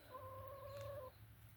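A black Orpington chicken in a henhouse at dusk gives a short, quiet drawn-out cluck, a single soft call over low background hum.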